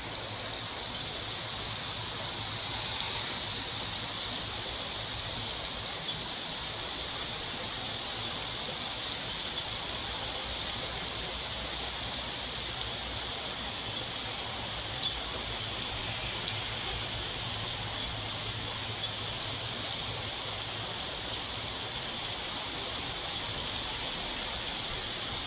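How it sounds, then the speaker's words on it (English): Heavy rain pours down outdoors in a torrential downpour, a steady unbroken hiss of water that stays even and constant throughout, with no talking. "now it's going to come down torrential downpours"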